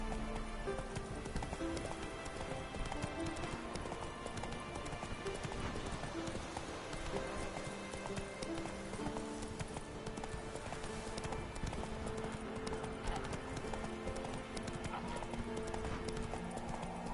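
Roach, a horse in The Witcher, gallops steadily in a continuous rapid clip-clop with an occasional neigh, close and constant under a dense game soundscape, and a voice briefly speaks.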